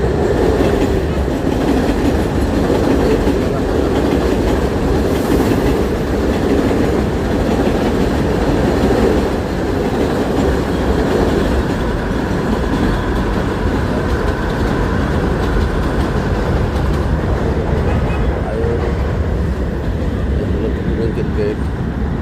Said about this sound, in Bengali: এই যে দেখেন একটা ট্রেন আসছে, এটা আসছে বকলিন ব্রিজ থেকে